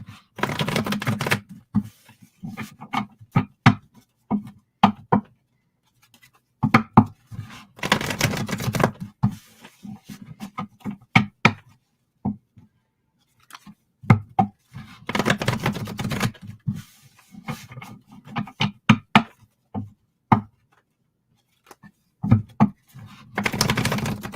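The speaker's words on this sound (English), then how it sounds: "I'm going to start shuffling for you." Tarot cards being shuffled in repeated bursts of riffling and soft slapping, close and fairly loud, broken by short pauses between rounds.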